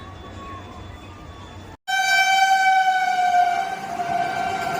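A train at Rangiya railway station in Assam sounds a loud, sustained horn after a brief gap in the rumble of the platform, up close and dominant throughout.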